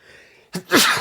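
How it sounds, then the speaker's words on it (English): A single sharp sneeze, preceded by a quick intake of breath, close and loud in an otherwise quiet room. "that sneeze was coming for a while"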